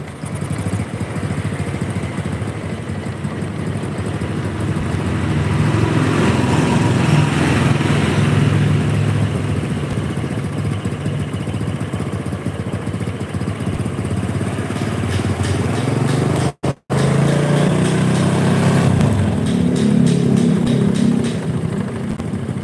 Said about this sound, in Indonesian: Kita coba hidupkan ya mesinnya ya.